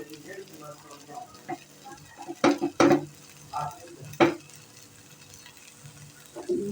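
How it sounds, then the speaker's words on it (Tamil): Cashews frying in ghee for kesari: a faint sizzle under a few distinct metallic stirring clanks and scrapes against the pan, close and intermittent, with soft background voice sounds. "இப்போ முந்திரி நம்ம வறுத்துட்டு அதில் ஆட் பண்ண வேண்டியதுதான்."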